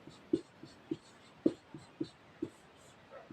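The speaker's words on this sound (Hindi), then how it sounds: "ठीक है, लिखेंगे वाक्य, मोहन प्रतिदिन" A pen or chalk writes a sentence by hand in short, quiet strokes, with irregular taps and scratches spaced a fraction of a second apart, faint and close with no talk.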